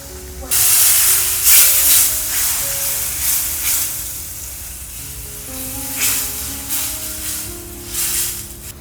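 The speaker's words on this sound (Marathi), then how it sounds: "इकडे आता फोडणीला मसाला घातला कांद्यामध्ये" Masala and onions sizzling in hot oil for a tempering, a steady loud frying hiss with bursts of crackle as spices hit the pan, no voices.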